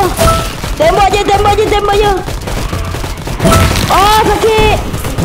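Rapid gunfire in a zombie shooter video game aimed at a wave 22 zombie boss: loud, dense bursts of shots with booming hits, while voices talk over the action.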